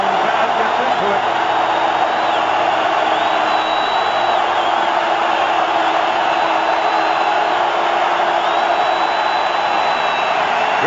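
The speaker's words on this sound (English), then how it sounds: "the home crowd gets into it" Home crowd at a 1996 Ohio State versus Michigan college football game roars continuously, a dense, loud wall of cheering and whoops filling the stadium without a break.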